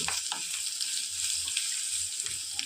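Mustard seeds, cumin and turmeric fry in hot oil with a close, bright sizzling hiss and small scattered pops, steady for a few seconds with no talking.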